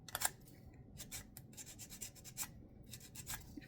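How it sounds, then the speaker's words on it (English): An emery board files the edge of a paper Christmas ornament in short, quiet, scratchy rasping strokes that come in uneven bursts close by. "I've got my little emery board here, and I'm just going down and across to kind of get this to shape."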